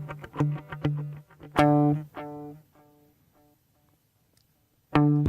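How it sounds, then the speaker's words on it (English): Guitar played through the Q Show Elevate pedal's stereo tape echo setting: picked notes and a strummed chord trail off into several softening repeats, followed by quiet decay before another chord strikes. "A stereo tape echo."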